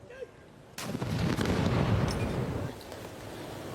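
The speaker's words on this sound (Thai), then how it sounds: "โดยยิงปืนใหญ่ด้วยดินดำ หรือดินไม่มีควัน มีจำนวนนัดเป็นเกณฑ์ตามควรแก่เกียรติ" A ceremonial artillery salute fired with black powder booms out in a single loud blast that starts abruptly and rolls on as a long echoing rumble before fading into steady background noise.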